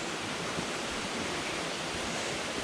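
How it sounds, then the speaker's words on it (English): The Sungai Pandan waterfall near Kuantan, Malaysia, pours in a dense, steady hiss of rushing water, loud and unbroken throughout with no voices. "we reached the top of the waterfall"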